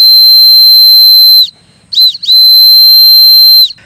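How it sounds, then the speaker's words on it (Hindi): A turbo-sound exhaust pipe whistle for bikes and cars gives a loud, steady, piercing high-pitched tone that holds, cuts off, then blows again in a short burst before another long sustained whistle. "ये है टर्बोसाउंड एग्जॉस्ट पाइप विसल, एक तरह का ये सीटी ही है।"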